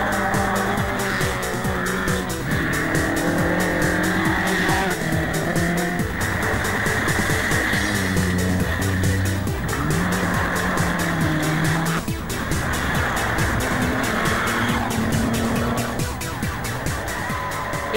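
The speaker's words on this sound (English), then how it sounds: "let's go to some British rallying now, where the gravel's getting just a bit too much for some" Rally cars slide across gravel in a British rally, engines revving hard and falling back as tyres scrabble and skid, a loud, continuous roar lasting the whole stretch.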